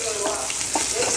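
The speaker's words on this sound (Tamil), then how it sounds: "சீரகம் பொரிஞ்சதும் கருவேப்பிலை, பச்சை மிளகா, நறுக்கி வச்சுருக்க வெங்காயம் சேர்த்துக்கலாம்" Steady sizzling of onions, green chilies, curry leaves and cumin frying in hot oil on high flame, with a few stirring scrapes over the constant crackle, close up and with no talk.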